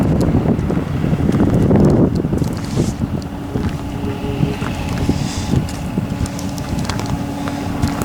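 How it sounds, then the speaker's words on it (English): Gas engine of a 1956 Ferguson F40 tractor, said to sputter and misfire at times, runs with a rough, steady low rumble, heavy wind buffeting the microphone early on. "The engine runs like it could use a tune-up. It'll sputter and misfire at times."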